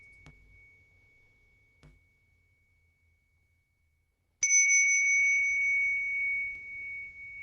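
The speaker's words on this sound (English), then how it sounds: "Now keep on feeling only this sound of bell." A meditation bell rings out once during a quiet session: after two soft knocks, it strikes at about the midpoint and sustains a bright, clear tone that slowly fades, alone and close.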